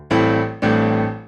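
A Yamaha CP88 stage piano with deep reverb plays two full, bright chords in a row, each ringing out and slowly fading.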